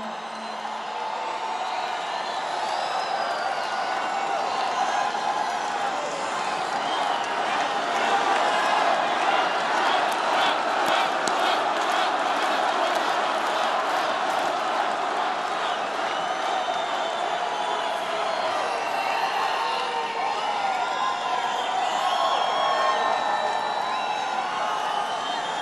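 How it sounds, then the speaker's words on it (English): A large rally crowd in Phoenix roars and cheers continuously, with whoops and scattered clapping swelling in the middle, a dense wash of many voices filling the space without a single clear speaker. "What a crowd."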